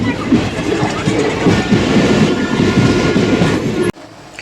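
Rajya Rani Express passenger train rolling between small halts, a loud steady rumble with rhythmic clickety-clack of wheels before cutting off abruptly near the end.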